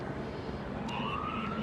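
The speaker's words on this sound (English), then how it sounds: "You can hear the sirens there." A police siren wails in the distance over steady Los Angeles street noise during a protest, its tone rising and sliding through the second half.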